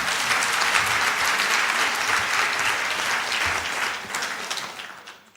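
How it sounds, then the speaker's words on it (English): A conference audience breaks into applause, a thick continuous rush of many hands clapping that holds steady and then fades out at the end, with no talking over it. "So let's clap for them"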